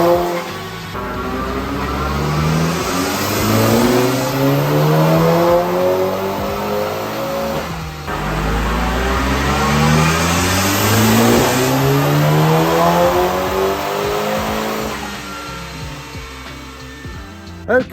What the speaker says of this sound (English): it runs a little bit better on the dyno on the stock coil packs